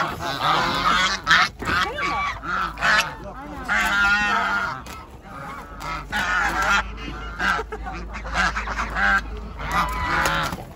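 Geese honk repeatedly at an outdoor market, loud harsh calls arriving in clustered bursts close by, with people talking intermittently between them.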